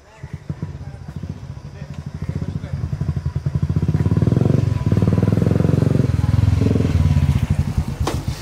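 A motorcycle engine putters in a steady, rapid pulse up close, building in loudness midway as it revs before easing back.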